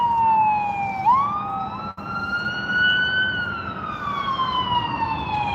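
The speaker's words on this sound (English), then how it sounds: "Hold on, we're going to have some sirens here." A wailing siren rises and falls continuously over steady low traffic noise, loud and fairly close throughout.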